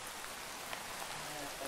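Steady hiss of rain falling in the blocky video game Minecraft, a constant even patter throughout the short stretch with no clear voices over it.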